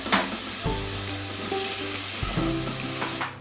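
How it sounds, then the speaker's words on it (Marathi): Capsicum, French beans and potato sauté in a pan for veg pulao, a brief close sizzle with soft stirring sounds and a faint steady hum underneath, no voices. "पाववाटी बटाटा हे आपण सगळं छान असं परतून घेणार आहोत"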